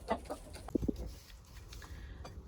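An ex-laying hen clucks close by, several short soft clucks and a couple of sharper bursts spaced irregularly, fairly quiet with faint background noise between them.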